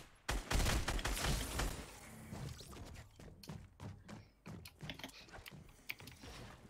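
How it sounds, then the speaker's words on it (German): A minigun in the Fortnite battle royale game fires in rapid bursts of clattering shots, first a dense loud volley, then scattered sharp cracks and thuds at moderate distance. "Ich höre bei mir jemanden mit Minigun nach unten ballern"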